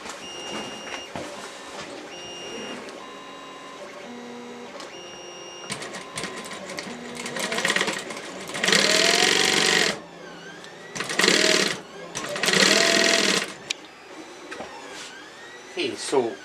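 A sewing machine stitches the front and back panels of a sci-fi inspired bomber jacket together, running in several loud buzzing bursts of a few seconds each between quieter handling noises and pauses.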